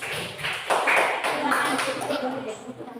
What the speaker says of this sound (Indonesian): Kita tepukkan semuanya.